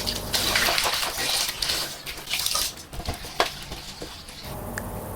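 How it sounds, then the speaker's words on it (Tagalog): Tap water runs steadily over brined chicken pieces in a sink, a continuous close splashing rush with brief clinks and shifts in flow, no talking. "Huhugasan natin ito at i-drain natin yung mga natirang tubig."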